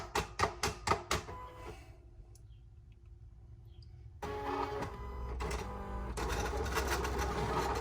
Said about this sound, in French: Et là, la lame se met à la bonne, au bon réglage qu'on lui a demandé. Et la fonction de découpage va commencer.